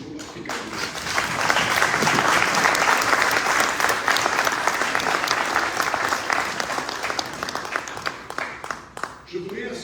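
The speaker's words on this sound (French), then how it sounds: "je vous demanderai poliment, mais sincèrement, d'applaudir encore une fois" Audience applause for Jules Souleymane Diop, president of the Africa group, at an International Africa Day event at UNESCO: a dense, loud burst of clapping that holds steady for most of the stretch, then thins and fades near the end.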